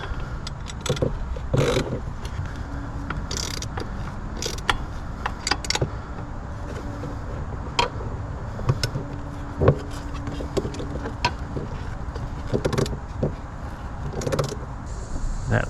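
A wrench tightens 10mm bolts on the exhaust of a Honda Navi scooter, giving close, irregular metallic ratchet clicks, creaks and taps against a low background rumble, with no speech.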